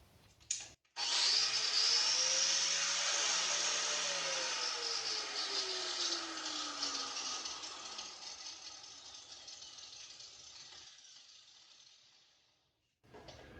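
A Harbor Freight Bauer 4.5-inch 8-amp angle grinder whines up to a loud, steady high-pitched spin right after switch-on, then slowly winds down and falls quiet near the end, with a click at each end.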